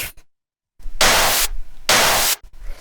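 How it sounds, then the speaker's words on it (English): Two short, loud bursts of white noise, each with a sharp attack, are layered with a techno snare hit. They come about a second apart, with brief silence before and between. "it's just a little bit of white noise with an attack, and it hits every time the snare hits"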